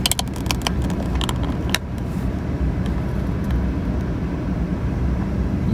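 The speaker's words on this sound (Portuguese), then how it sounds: "Ele já lavou e agora está passando o ar para secar." A car wash air dryer in Japan blows on a freshly washed car, a loud, steady roaring rush of air that holds constant throughout, with a few clatters near the start.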